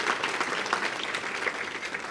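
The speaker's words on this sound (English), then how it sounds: "It does deserve a round of applause." A crowd at a community organization's 100th annual meeting breaks into applause, a brief, even wash of many hands clapping in a room, with no talk over it.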